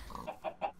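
Chicken clucks in the game Minecraft, three short, close, moderately loud clucks in quick succession.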